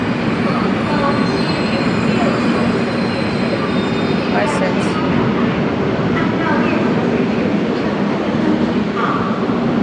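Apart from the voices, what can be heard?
train running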